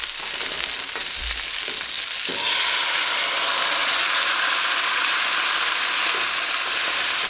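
Meatballs sizzle in a pan, then the sound swells into a loud, sustained hiss as Newman sauce is poured in, with a few clanks and scrapes early on.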